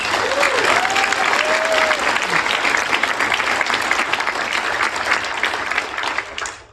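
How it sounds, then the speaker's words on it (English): A gala audience breaks into a steady round of applause at an awards evening, dense clapping holding for several seconds before thinning at the end, with a few faint voices underneath. "So I want to give you all a round of applause."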